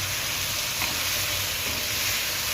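Mung dosa filling roasting in a pan sizzles in a loud, steady, continuous hiss with faint stirring, no voices.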